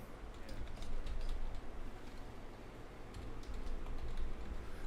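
Rapid, irregular clicking of a computer keyboard being typed on by someone writing code for machine learning with Scikit-Learn, fairly steady and close over a low background hum.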